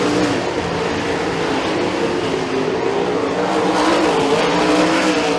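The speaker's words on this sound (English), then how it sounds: "As we now have these race cars all over Freedom Motorsports Park" 360 sprint race cars racing at Freedom Motorsports Park, a loud, continuous engine roar from several cars at once, steady and dense throughout with slight swells as they pass.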